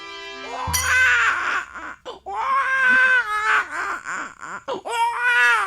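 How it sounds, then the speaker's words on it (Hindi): An infant wails loudly in long, rising cries broken by short gasping pauses, close and intense, with no talking over it. "कैसे बच्चा रो रहा है?"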